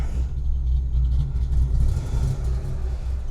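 A car engine rumbles steadily at close range at an autocross event, a low droning hum with slight swells as the vehicle moves.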